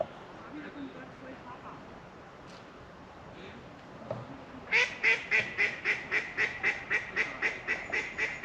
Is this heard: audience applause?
no